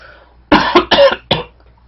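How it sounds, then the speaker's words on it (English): Three harsh, wet coughs burst out close to the microphone, phlegmy from allergies, the middle two nearly back to back and the last one shorter, with near silence before and after. "That's why I'm coughing."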